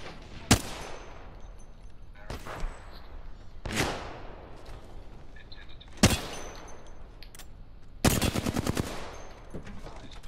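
Gunfire in the Apex Legends battle royale game: several sharp, loud isolated shots spaced about a second or two apart, then a quick automatic burst near the end, with little talk.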